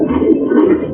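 A racing pigeon coos close by at a race arrival, a continuous, throaty warble that swells and fades over about a second.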